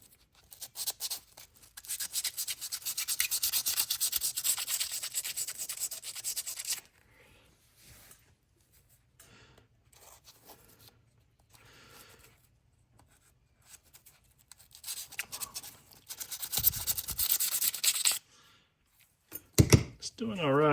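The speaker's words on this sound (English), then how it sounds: "I think I might need to get a little bit stronger grit or another piece of 320" Worn 320 grit sandpaper rubs along the blade of an Imperial fish knife in steady close scratching strokes, a long stretch, then quiet, then a second bout, with talk heard during the pause.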